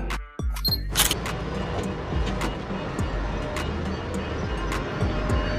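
A haul dump truck drives past with a continuous, coarse rumble and repeated clanking rattles, after a short sharp clatter at the start.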